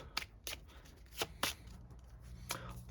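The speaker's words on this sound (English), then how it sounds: "now that we have our deck nicely shuffled" A deck of Duel Masters trading cards being shuffled by hand, giving a series of short, crisp riffling bursts spaced irregularly over a quiet room background, close and fairly soft.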